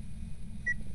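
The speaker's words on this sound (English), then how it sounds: "Oh, you gotta replace your smoke detector battery." A smoke detector gives a single short, high low-battery chirp partway through, heard faintly against a steady low background hum.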